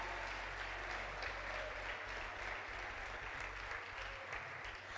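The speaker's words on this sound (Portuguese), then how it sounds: "1 minuto aplaudindo e glorificando o nome do Senhor" A church congregation applauds continuously, a dense, steady wash of many clapping hands filling the room at even loudness, with a low hum underneath and no clear talk.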